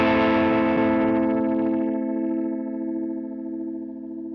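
A single sustained electric guitar chord through a Line 6 Helix rotary speaker modulation effect rings out loud and swirling, its bright upper shimmer fading over a few seconds while the low body keeps sustaining alone.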